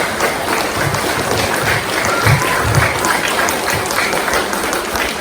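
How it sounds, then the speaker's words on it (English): A room full of people at a school assembly applauding a student contestant, a dense, steady wash of clapping that holds evenly throughout without voices. "Big clap for her."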